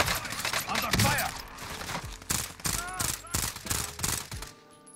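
Rapid bursts of automatic gunfire and single shots crack through a Warzone battle royale match, loud and close in clustered volleys with gaps between, while players call out over the shooting.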